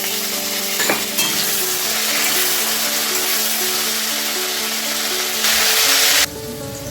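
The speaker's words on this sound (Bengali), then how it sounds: "এই আলুটাকে আমি ফোড়নের সাথে ভেজে নেব" Potato pieces fry in hot oil with a cumin tempering, a steady close sizzle running throughout with faint clinks of a utensil and a brighter burst of hissing near the end.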